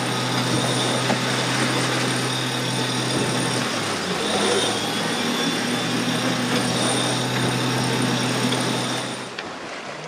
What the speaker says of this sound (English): so we've had to start the engine